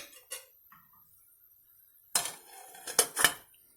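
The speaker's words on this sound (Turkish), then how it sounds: "Kapağını kapatalım." A lid is set onto a simmering pot of ashure: a few clattering clanks and rattles bunched together near the end, close and crisp, with a faint tap earlier in an otherwise quiet kitchen.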